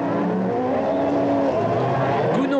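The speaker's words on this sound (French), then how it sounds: "La BMW est toujours en tête dans le deuxième droite, mais dans le troisième, Marc sort un peu trop large" A BMW and a Seat Cordoba race on a dirt track at the Trophée Andros, their engines roaring loud and continuous with pitch rising and falling through the corners, under a commentator talking.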